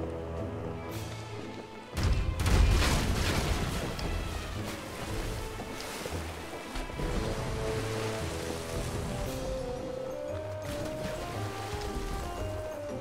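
A ship's cannon fires in the pirate game Pirates Online, a single loud booming blast followed by a long rumbling decay under rain-like ambience and sustained game music.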